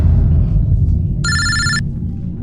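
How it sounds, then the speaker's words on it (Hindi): A single short electronic telephone ring sounds over a low, murmuring background hum. "फ्रेडी का फोन था"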